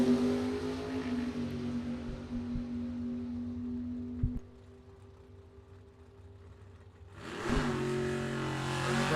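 A 1980 Camaro and a 1971 Maverick drag racing at a drag strip, engines droning and fading as the cars pull away, a brief lull, then a loud roaring surge of engine noise near the end.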